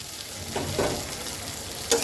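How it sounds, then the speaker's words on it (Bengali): Pre-fried potatoes going into a pan of hilsa fish curry, a soft steady sizzle with a couple of brief clatters as pieces drop in and are moved, close and without speech. "এখন দিয়ে দেব ভেজে রাখা আলুটাকে"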